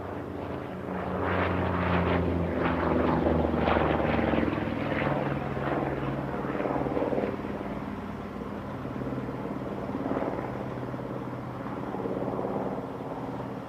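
A Bearcat propeller plane at the Reno air races rolls for takeoff, its loud, rough engine roar and propeller drone rising and holding steady across the clip with no talk over it.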